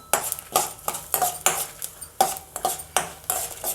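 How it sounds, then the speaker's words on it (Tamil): Urad dal and pepper being dry roasted in a pan: a spoon scrapes and taps the metal in a regular stirring rhythm, roughly two strokes per second, each pass a sharp clattering rasp up close. "இப்போ உளுந்து மிளகு எல்லாம் வறுபட்டுருது."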